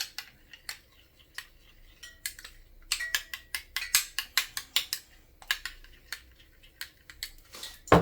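A spoon clinks against a bowl while pink sauce is stirred, making scattered sharp taps that speed into a busy flurry of scraping and clicks, then ease off before a final knock.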